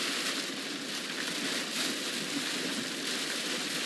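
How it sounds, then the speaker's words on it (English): Extremely heavy rain falls during a severe August storm near Austin, a dense continuous hiss of downpour with crackling patter, steady and loud throughout with no one speaking. "this rain is just extremely heavy"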